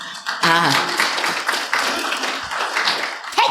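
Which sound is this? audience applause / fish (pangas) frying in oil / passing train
audience applause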